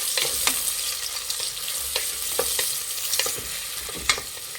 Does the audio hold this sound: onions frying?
yes